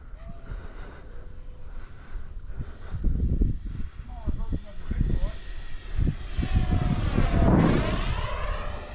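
A Freewing F-22 Raptor 70mm RC jet flying in the rain gives a whining ducted-fan roar that swells and passes overhead, under nearby talk from several people.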